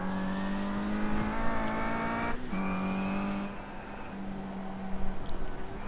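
Simulated race car engine in iRacing, a 2013 BTCC touring car at Okayama, roaring steadily at high revs down the start-finish straight, with a brief dip around a gear change and a passing rival's engine blending in; no talk.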